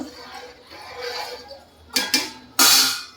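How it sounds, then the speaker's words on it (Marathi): Moong dal khichdi being stirred in a pot, with a few sharp metallic clinks and scrapes of a spoon against the pot near the end, following softer handling sounds and some faint talk. "परत आपण एकदा हलवून घेतो"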